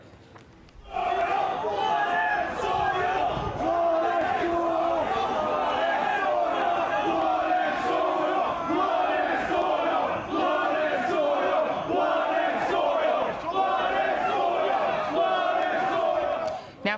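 White nationalist marchers at a Charlottesville march chant "blood and soil" in unison, a dense, loud crowd roar with rhythmic shouted phrases that repeat steadily throughout.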